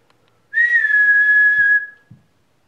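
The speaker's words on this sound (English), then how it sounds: "See, I'm hearing a whistle as well." A single sustained whistled note inside an old theatre, clear and fairly loud, holding steady for over a second before fading, followed by two soft low thumps.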